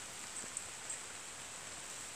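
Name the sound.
rain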